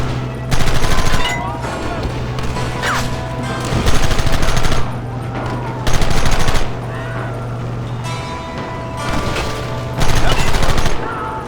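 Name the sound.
gunfire in video game Red Dead Redemption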